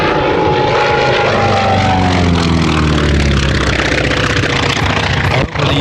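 A WWII propeller warplane roars past low at an airshow, a loud, close droning engine whose pitch slides steadily downward as it passes, with no talk.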